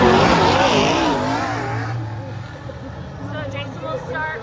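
Super Saloon race cars roar past on a dirt track, the engine whine close and loud at first, then fading away as a commentator talks over it.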